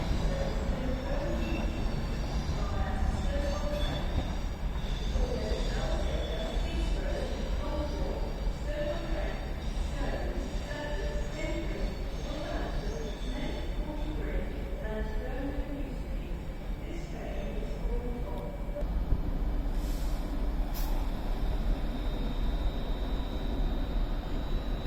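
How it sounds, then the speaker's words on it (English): Trains pull out of Crewe station on the West Coast Main Line, a low continuous rumble of rolling stock and wheels with faint metallic squeals, moderately distant and steady, with no talk heard. "Departing now of both trains, the first one being the 350 119 bound for Birmingham New Street via Stoke-on-Trent"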